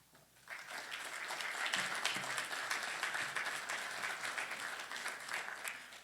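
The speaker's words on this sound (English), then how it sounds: "give a round of applause for our speaker" An audience claps for a speaker at an evening history talk, applause swelling quickly after a quiet start and holding as a steady, moderately distant wash of clapping.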